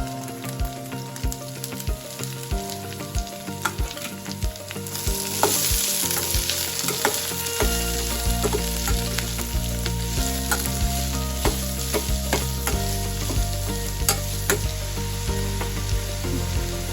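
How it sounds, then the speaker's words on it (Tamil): Onions with green chillies sizzle and crackle steadily in a hot pan, a dense frying hiss with occasional stirring scrapes, close and continuous with no talking. "போட்டு அதை வதக்க தொடங்கணும்."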